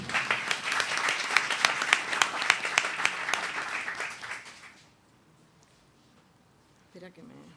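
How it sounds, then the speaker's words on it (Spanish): An audience claps warmly after a narrated children's story reading, a dense, rhythmic burst of many hands that fades out after about four seconds, leaving near silence before a brief voice speaks. "Otro aplauso, por favor."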